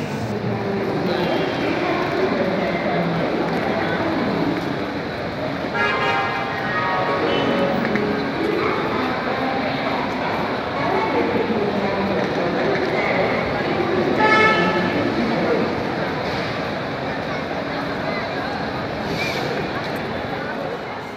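Busy ambience at Howrah railway station: a steady crowd din with short horn toots rising from it at intervals. People talk throughout.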